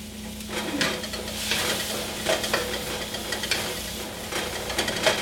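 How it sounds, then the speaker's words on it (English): Lemon juice poured down the side of a hot stir-fry pan of vegetables, giving a steady crackling sizzle with bursts of spatter and light clinks of pan and utensil throughout. "just pour a little bit down the side, and this is kind of fun because it's going to sizzle and it's going to steam."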